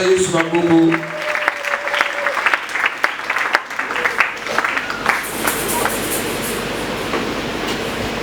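A church congregation claps and cheers loudly for the Lord, a dense, steady roar of applause and shouting that builds and holds throughout, with a voice briefly audible at the start.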